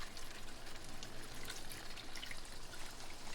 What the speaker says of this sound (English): pour in 3 cups of water,